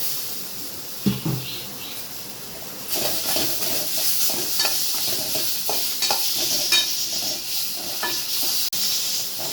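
Spices and tomato roasting in a hot pan for a goat leg curry, a steady close sizzle and hiss broken by stirring scrapes and occasional clicks of the spoon, with no talk.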